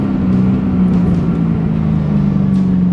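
Chevrolet Camaro ZL1 from 2012 idling with a steady, low exhaust burble that holds loud and continuous throughout, with no talk over it.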